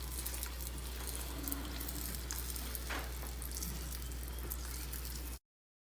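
Chiles rellenos fry in hot oil with a steady, soft sizzle and faint crackles, oil being spooned over them before flipping, until the sound cuts off abruptly.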